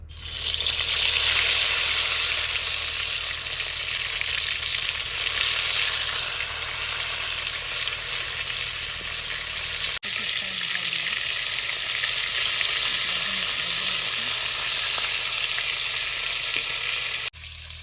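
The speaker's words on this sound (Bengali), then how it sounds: "তেল গরম হয়ে গেছে এবার উস্তেগুলো দিয়ে দেবো" Bitter gourd pieces fry in hot oil for a Bengali dish, giving a loud, steady sizzle that crackles on without a break and with no talking.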